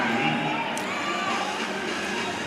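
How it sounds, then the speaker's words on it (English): A stadium crowd at a women's professional volleyball semifinal cheers and shouts, a broad sustained roar with high whoops rising through it, loud and continuous. "And Atlanta is cheering"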